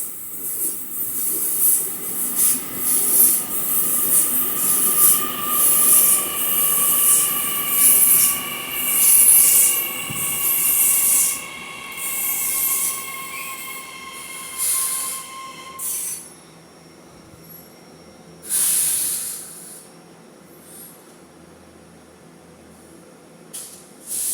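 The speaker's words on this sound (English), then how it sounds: "We have a train about to pass through platform 1." A train rolls into Mount Victoria station at night with loud, sustained high-pitched wheel squeal and hiss of brakes, slowing and fading, followed by a couple of short bursts of air release.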